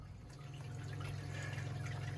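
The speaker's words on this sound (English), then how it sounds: "you can probably hear some water flowing behind me already." Automatic greenhouse watering system sending a faint, steady trickle of flowing water with a low hum underneath, distant and constant throughout.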